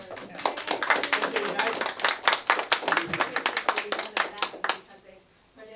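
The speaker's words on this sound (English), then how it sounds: "If everybody could just give them a round of applause." Audience applause at a Hmong Cultural Center 30th anniversary event, a crowd of hands clapping steadily and fairly close, then tapering off into quiet near the end.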